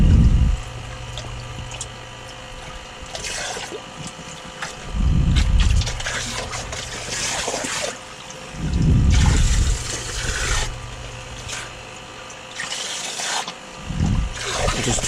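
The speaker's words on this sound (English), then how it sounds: "kick up the sand and the water so the pump draws it out." A pump draws water and stirred-up sand from a rubber-lined sump serving a 1000-gallon aquarium system, a steady drone under repeated loud sloshing and gurgling surges of water.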